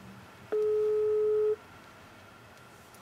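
A phone call ringing tone: one steady electronic tone lasting about a second, clear and fairly loud over faint background hiss, followed by quiet.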